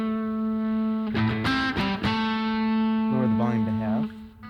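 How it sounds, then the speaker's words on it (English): A Harley Benton DC Junior electric guitar played through a broken-up amp with its volume knob lowered to half, giving a cleaner tone. A few sustained notes and short chord stabs ring out, nearly alone. "if you lower the volume, you can kind of get cleaner tones if you're on a more broken up amp."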